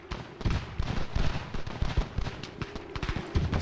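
Artillery guns firing across a Revolutionary War battlefield near Fort Ticonderoga in Ultimate General: Revolution, a steady run of booming blasts and crackling volleys, with no voices over them.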